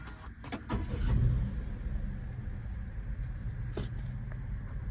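A 2023 Daihatsu Hijet S510P scissor dump truck with automatic CVT starts by push button, giving a brief low rumble that settles into a steady close idle, with a couple of sharp clicks near the start.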